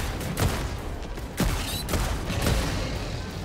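An Exo-49 Emancipator exosuit mech in Helldivers 2 fires a rapid volley of heavy cannon shots against bugs and bots. The booming reports come in a close, loud, rhythmic sequence with continuous battle rumble beneath.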